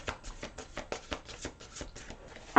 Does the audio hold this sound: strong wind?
no